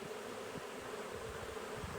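Honey bees swarm and buzz around a tree branch on a regenerative farm, a constant low hum of many wings, faint and steady, with no voices.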